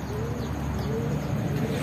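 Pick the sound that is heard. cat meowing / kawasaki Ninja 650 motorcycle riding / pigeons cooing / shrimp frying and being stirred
pigeons cooing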